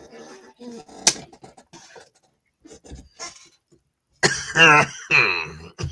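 Someone coughs hard several times in loud, harsh bursts, after a stretch of quiet speech and a single sharp cough.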